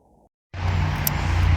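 Steady roar of road traffic as vehicles pass close by on a street during a dog walk, a loud continuous rumble that cuts in abruptly after a brief quiet moment.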